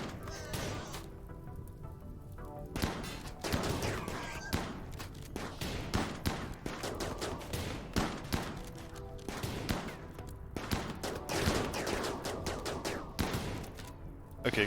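Gunfire in the video game RimWorld, a dense, continuous fusillade of rapid shots and thuds, loud and close, with occasional talk over it.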